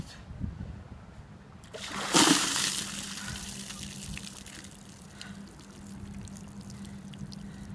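Ice water is dumped from a bucket in a single loud rushing splash lasting under a second, followed by dripping and a quieter wash of trickling water and outdoor background.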